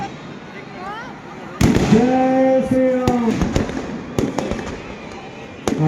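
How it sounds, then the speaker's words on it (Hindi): Fireworks burst at a Ramlila Vijayadashami celebration in Nainital, a series of loud sharp bangs and crackles over crowd noise, while a chanting voice rings out over a loudspeaker. "आप सभी लोग आतिशबाजी का आनंद ले रहे हैं"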